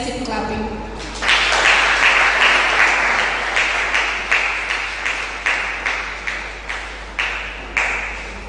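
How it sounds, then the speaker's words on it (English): An audience applauds steadily at a ceremony marking World Occupational Therapy Day 2024, a dense, loud wash of many hands clapping that starts suddenly and carries on, with a few sharper claps standing out. "Let's keep clapping."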